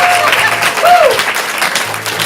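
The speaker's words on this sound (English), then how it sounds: "we'll keep that applause going" An audience claps and cheers at the end of an improv comedy scene, with dense, lively applause filling the room and a voice briefly heard over it.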